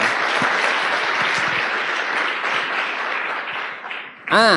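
An audience at a network-marketing seminar breaks into sustained applause, a loud, even wash of clapping that fades slightly before a short tonal burst at the end.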